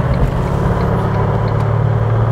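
A remapped 76 Series four-wheel drive pulls hard under acceleration in fourth gear, a loud, steady low engine drone filling the whole short stretch with no voices.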